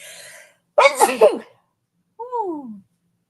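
A single close sneeze bursts out after a soft breath, followed by a short, quieter vocal sound.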